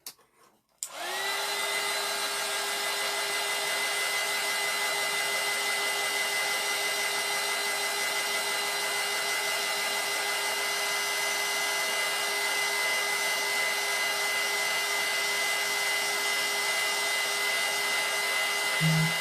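Hair dryer blowing steadily on a painted snowman's face while paint dries, a loud continuous whine with a strong steady tone after it clicks on, running alone for nearly the whole stretch.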